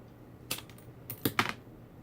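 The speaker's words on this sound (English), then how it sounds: "So basically all you're doing is just marking off and cutting." Cutting craft sticks while building a model gazebo, heard as a few sharp, close snaps and clicks spaced apart, no talking.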